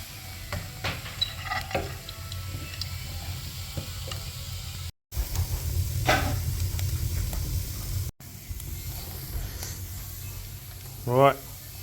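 Chamois back steak frying in a pan at a hunting camp, a steady close sizzle with stirring and scraping throughout and a brief squeak near the end.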